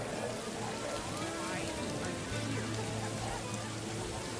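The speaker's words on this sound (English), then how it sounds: "But it's a light rain outside" Light rain ambience from a web sound tool for a tabletop fantasy game scene outside a tavern, a faint, even hiss of drops with a low hum joining partway through.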